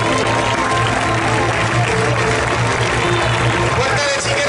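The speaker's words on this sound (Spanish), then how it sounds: "Fuerte el aplauso," Crowd applause at a bull event, a 'concurso de recortes' in Vilafranca del Cid, sustained and dense across the whole stretch with voices mixed in.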